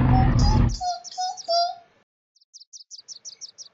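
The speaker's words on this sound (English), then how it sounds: "There were so many cute birds on the sidewalks by the museum" Birds on a New York sidewalk near a museum entrance chirp in short high bursts, first over a brief burst of background sound, then alone as a quick run of repeated tweets after a pause.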